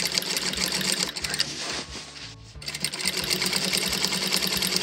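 A sewing machine stitches a skirt waistband, its fast motor whirring in continuous runs with one brief pause before it resumes.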